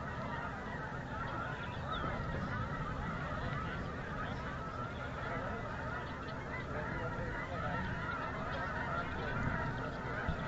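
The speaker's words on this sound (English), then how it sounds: "Are y'all getting the bird noises on the stream here?" Birds honking near a rocket launch site for a Northrop Grumman Antares Cygnus cargo launch attempt, with faint, continuous goose-like calls under a steady outdoor background hiss.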